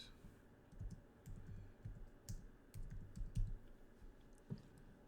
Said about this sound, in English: Let me type it like this.